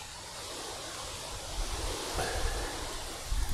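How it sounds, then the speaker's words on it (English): Strong outdoor wind buffets the microphone with a steady, broad rushing roar. Low thumping gusts grow louder toward the end. "This wind is ridiculous."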